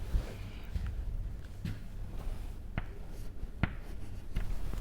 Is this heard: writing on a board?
yes